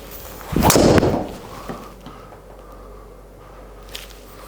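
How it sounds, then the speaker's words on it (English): A golf tee shot, a driver striking the ball on a course hole at Bethpage Black, heard as one sharp crack followed by a fading whoosh, then quiet outdoor ambience with a faint tap near the end. "Now, after negotiating the tee shot with a 286 yard drive down the middle"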